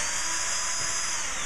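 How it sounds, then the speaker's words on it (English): A power drill whines steadily and loudly during boatbuilding work, a continuous high-pitched motor run with no talk over it. "By pushing hard, I mean you're pushing on the back of the drill."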